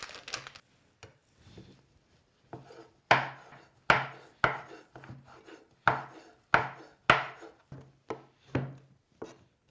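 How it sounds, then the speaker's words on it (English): A knife chops through a chocolate bar on a cutting board for cookie dough, giving a run of sharp, close chops that come fairly steadily after a few scattered cuts at the start, with no talking. "I'm going to chop up a chocolate bar instead of using chocolate chips"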